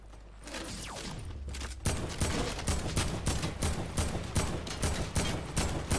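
Rapid bursts of video game gunfire in a battle royale match crackle loudly and continuously, with repeated sharp volleys following a brief whooshing sweep at the start.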